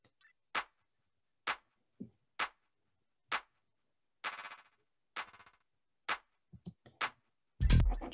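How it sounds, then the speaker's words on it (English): Claps in a dance track pass through a fracture effect, coming out as sparse, sharp, stuttering hits with silence between them, some chopped into short grainy bursts and a louder final hit. "is an effect that I use on my claps."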